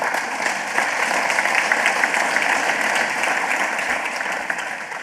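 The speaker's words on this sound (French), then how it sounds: "Merci de vos applaudissements pour eux" A crowd claps steadily and warmly, a dense wash of applause that continues evenly throughout before easing slightly at the end.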